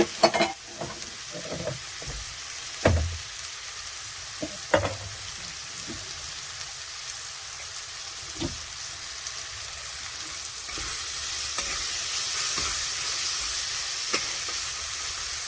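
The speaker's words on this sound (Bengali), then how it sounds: "একটু জল দিয়ে দেবো, নাহলে পুড়ে যাবে" Spices frying and sizzling steadily in a pan on a home stove, with occasional stirring clatters and a louder hiss swelling near the end as water is added; no talk.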